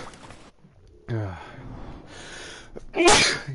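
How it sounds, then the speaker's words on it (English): A sneeze in the video game Assassin's Creed IV Black Flag, a single sharp burst preceded by a short intake of breath, loud and close with quieter game sounds around it. "Sneeze."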